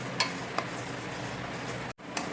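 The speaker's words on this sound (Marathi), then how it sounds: "आता आपण सफेद तीळ टाकले आणि ते पण आपण भाजून घेतोय चांगले" White sesame seeds dry-roasting in a pan, a continuous soft hiss and rustle with a few faint clinks of the stirring utensil, steady and close.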